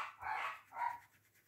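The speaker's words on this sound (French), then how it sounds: "parce que les chiens ne s'arrêtent pas" Dogs bark nearby, two quick barks close together, loud and clear with no talk over them.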